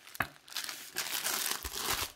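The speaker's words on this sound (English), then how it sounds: "We've got a nice heavy plastic bag." A heavy plastic bag sleeve crinkles and rustles continuously while being handled during an unboxing, with one sharp crackle near the start and steady crumpling throughout.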